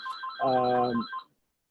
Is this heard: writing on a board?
no